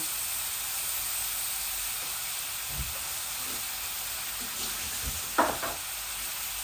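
Boiled jackfruit seeds and leafy greens frying in a pan give a steady, even sizzling hiss throughout, with a couple of soft utensil knocks near the end and no talking.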